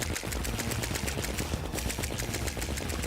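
Rapid, continuous gunfire from bullets shot at a boss in the video game Terraria, a dense steady stream of sharp repeated shots filling the whole stretch at even loudness with no talk.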